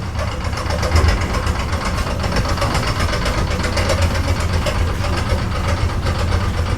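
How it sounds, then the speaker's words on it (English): Old tram in Brussels running, its engine giving a steady, loud, continuous rumble with a rhythmic throb that holds level throughout, close to the listener with no talking. "Check out the sound of this engine."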